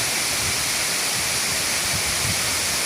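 Steady broadband roar of water pouring at Inambacan Falls in Catigbian, Bohol, a dense continuous rush close by with no voices over it.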